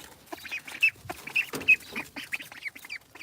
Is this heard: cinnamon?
no